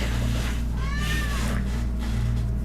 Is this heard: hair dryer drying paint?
no